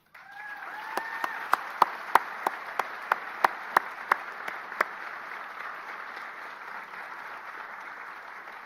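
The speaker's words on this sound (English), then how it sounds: "I think we should give you a round of applause." An audience at an agriculture faculty graduation applauds for the graduates' families, with steady crowd clapping and a series of sharp, loud individual claps close by.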